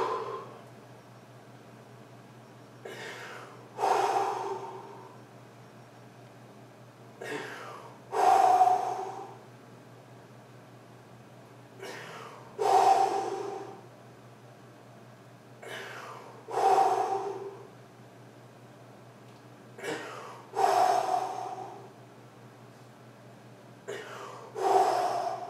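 A man breathes heavily after circuit training with squats, long loud gasping inhales and exhales repeating every few seconds, close to the microphone over a steady low hum.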